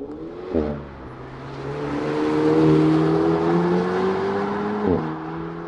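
An Alpine A110S sports car engine, 292 hp, revs and holds a rising drone, with a gear change partway and another shift near the end, heard from inside or nearby.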